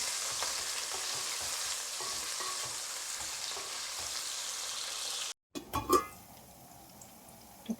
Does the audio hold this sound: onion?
yes